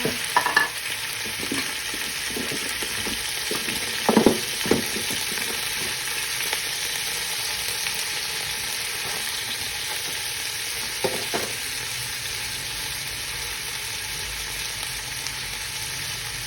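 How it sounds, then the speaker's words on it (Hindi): Chicken with a teaspoon of salt being stirred and browned in a pan for a bhindi chicken dish, a steady sizzle throughout with a few sharp scraping clatters of the spoon, no talking. "इसको जो हम अच्छे तरीके से भूनेंगे"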